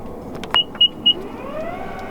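A 2023 Infiniti QX60 Autograph AWD power tailgate closes after a button press: three short electronic beeps, then a steady rising motor whine as the hatch lowers, close by.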